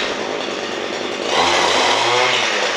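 A grass cutter engine fitted with a rice harvester attachment runs steadily and loudly, its buzzing whine rising in pitch and intensity partway through, with no voices.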